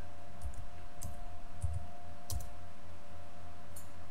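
Keys on a computer keyboard click in a few spaced, soft taps at a desk, with a quiet steady electrical hum underneath.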